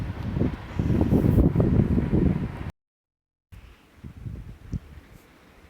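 Strong gusty southerly wind on an evening with drizzling rain buffets the microphone with a low rumble, drops out briefly, then returns softer and more broken.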